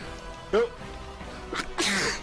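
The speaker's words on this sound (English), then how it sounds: "I'm gonna sneeze." A single sharp sneeze bursts out near the end, preceded by soft voices and a quick intake of breath.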